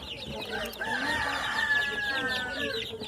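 Native chickens, mostly black, along with a few Rhode Island Reds, cluck and call together in a steady, fairly loud flock chatter with higher crowing-like notes rising through the middle.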